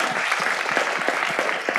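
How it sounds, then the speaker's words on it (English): An audience at a city council meeting claps for a young girl named Clara, a loud, close, even patter of many hands without talk. "Let's give Clara a big round of applause."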